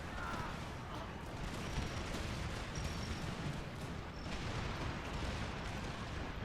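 Cannon and musket fire rumble through an Empire: Total War battle at Paris, a dense, continuous roar of distant volleys and booms with no clear pauses, loud throughout.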